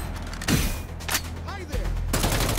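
Gunfire in the open-world game City of Outlaws: rapid bursts of shots over a steady background hum, with brief gaps between volleys.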